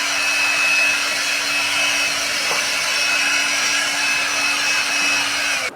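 A Rheem air blower/vacuum cleaner clearing leaves from a yard, a loud steady motor whine with a constant airy rush, running close and uninterrupted for several seconds.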